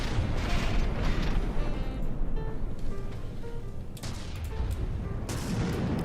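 Mortar fire booming in a From the Depths naval video game battle, with repeated heavy blasts and mechanical clunks over a continuous loud rumble, no voices.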